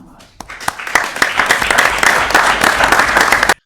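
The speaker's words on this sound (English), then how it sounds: "the city council is clapping for you, Ellen" A city council applauding at a celebration of a Lake Forest shop's 100 years in business, dense steady clapping from a small room of people that builds quickly and stops abruptly after about three seconds.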